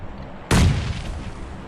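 A single sharp grenade blast from PUBG Mobile gameplay, loud and close, erupting suddenly after a quiet lead-in and trailing off into a long rumbling decay, with no talk.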